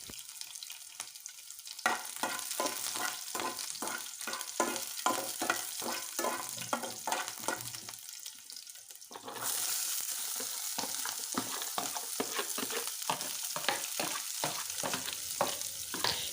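Onions and chillies frying in a pan as they cook toward golden brown, a steady close sizzle broken by rhythmic, repeated stirring scrapes throughout, with no voices.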